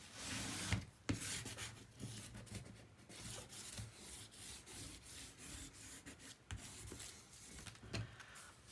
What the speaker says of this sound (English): Now it's going to be easier for me to burnish from this side because of the ribbon.